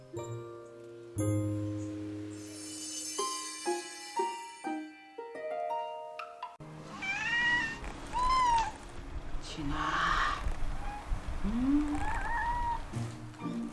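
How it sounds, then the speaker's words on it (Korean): Piano notes play first, then a cat at a mountain Buddhist nunnery meows repeatedly in drawn-out, plaintive cries close by, with faint background noise. "애절한 소리로 다가오는 고양이 한 마리"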